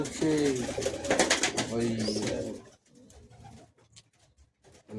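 Madrasi pigeons in Bagnan coo in repeated low, throaty calls, loudest at first and then fading to softer, sparser sounds, with a brief voice mixed in.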